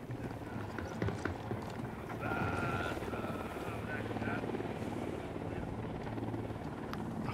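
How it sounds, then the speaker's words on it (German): A helicopter in the video game Ghost Recon Wildlands gives a steady rhythmic rotor chop throughout, mid-distance and continuous over game ambience. "Das ist der Begleithubschrauber für den Transport."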